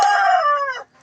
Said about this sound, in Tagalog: pasensya na sa manok, tumitilaok.